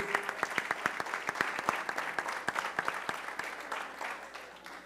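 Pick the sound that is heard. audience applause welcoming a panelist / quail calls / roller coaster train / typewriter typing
audience applause welcoming a panelist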